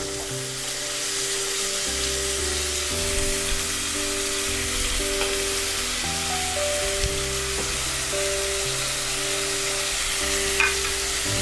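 Chopped onion fries and sizzles in a pan while it is stirred, a constant close crackling hiss with soft scraping, and a low steady hum under it throughout.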